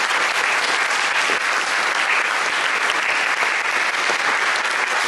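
Audience applause for guests at a community event, a continuous, loud and even round of clapping from a sizeable crowd with no break.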